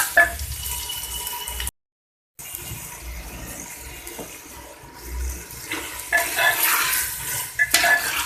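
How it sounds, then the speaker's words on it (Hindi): Chicken being stir-fried in a karahi for balti chicken karahi, a steady sizzle and scraping stir running throughout with no talk, a brief silent gap early on, louder clattering toward the end. "चिकन डाल के इसे इतना भूनेंगे कि चिकन का कलर वाइट हो जाए"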